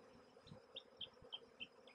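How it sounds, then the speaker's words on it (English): Honey bees buzz softly around beehive frames, a faint steady hum broken by a series of brief, sharper buzzes as single bees fly close past, with no voices. "it's really important that you shake all the bees off the frames"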